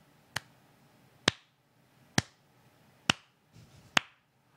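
A single person clapping hands five times at a slow, even pace, each clap sharp and close in a quiet room, with a faint rustle between the last two claps.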